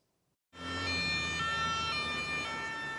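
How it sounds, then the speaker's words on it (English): After a moment of silence, an emergency siren in Paris starts abruptly and wails steadily, loud and close, with traffic rumbling beneath. "The sirens sounded again in Paris today for the men accused of terrorising this city"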